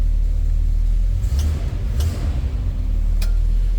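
A 1972 Chevrolet Cheyenne C10 pickup truck's engine idles with a deep, steady low rumble, close by, with a few faint clicks and taps over it and no talk.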